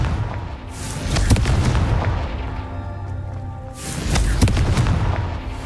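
Confringo explosion spell in the Hogwarts Legacy video game, with two heavy booming blasts and rumbling debris, loud and close, the second arriving after a sustained roar with no talk.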